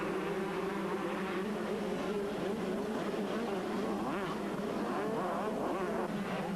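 A pack of 125cc motocross bikes at a 1996 World Grand Prix in Yogyakarta, Indonesia, roaring off the start together, a dense, buzzing engine drone held loud and continuous across the clip.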